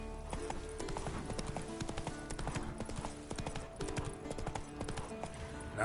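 Roach the horse trots in The Witcher 3, hooves clip-clopping in a brisk, steady rhythm against a dense, busy game soundscape that stays loud and continuous throughout.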